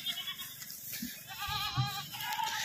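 A young white-and-brown spotted Gujri goat, around 30 kg and kept on a farm selling goats for Bakrid, bleats a few times close by over a steady background hum.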